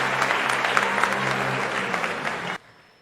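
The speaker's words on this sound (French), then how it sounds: "Je vous prie d'applaudir, s'il vous plaît," An audience at a formal speech event applauds with dense, steady clapping at close to moderate distance, cutting off abruptly near the end.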